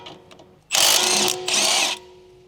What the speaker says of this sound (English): Use a 17mm deep socket with an electric impact wrench to remove the sway bar link mounting nut.